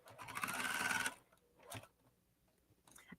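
A sewing machine stitches around an already sewn piece in a short, fast burst about a second long, then falls quiet except for a couple of faint clicks and taps.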